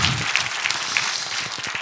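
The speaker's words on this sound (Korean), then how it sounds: "박수!" A large crowd at an outdoor Christmas worship rally in Gwanghwamun applauds, a full, continuous roar of clapping heard close and loud for the whole moment.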